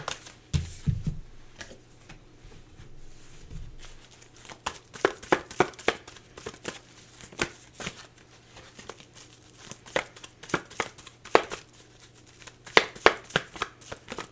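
Oracle cards for a Gemini reading are shuffled and pulled by hand, giving a steady run of crisp papery flicks and snaps, with denser bursts of riffling near the end and no talk.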